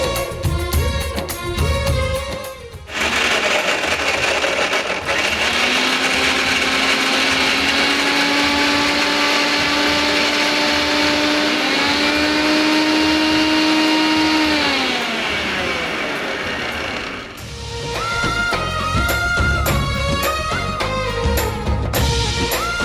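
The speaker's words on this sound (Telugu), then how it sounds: "అండ్ ఇది మిక్సీ పట్టేసుకుందాం." A mixer grinder with a small jar blends a cupful of avocados in one loud, continuous whir of about twelve seconds. Its pitch rises and falls as the load changes, with music before and after.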